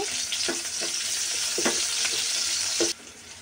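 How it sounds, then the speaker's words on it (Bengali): Chopped onion, green chilies, bay leaf and cardamom fry in hot oil with a steady, loud close sizzle, punctuated by several scraping stirs before the hiss suddenly drops lower near the end. "তেলটা হালকা গরম হয়ে আসলে দিয়ে দিব তেজপাতা, এলাচ, তার সাথে দিয়ে দিচ্ছি এখানে পেঁয়াজ কুচি করা, কাঁচামরিচ, কিছুক্ষণ ভেজে নেব।"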